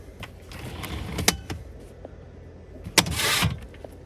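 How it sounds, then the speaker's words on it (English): A 2018 Ford Kuga 2.0 TDCI EcoBlue Vignale AWD opens its powered tailgate with a steady electric motor whir, broken by a couple of sharp latch clunks and a final louder mechanical thud near the end. "it's the fully electric opening tailgate"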